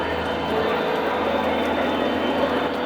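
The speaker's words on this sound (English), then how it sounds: "This is one of my favorite trains," A steady, continuous mechanical whir with faint rattling, like a small model train running along its track, close by and without pauses.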